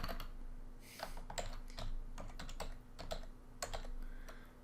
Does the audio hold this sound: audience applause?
no